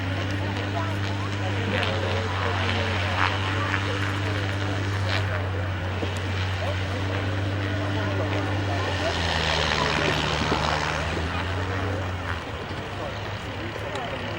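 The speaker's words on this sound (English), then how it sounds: "the Dragon Rapine taxis back inbound" De Havilland Dragon Rapide biplane taxiing at an airshow, a steady droning engine hum with a slowly shifting pitch, continuous and moderately close, under a commentator's talk.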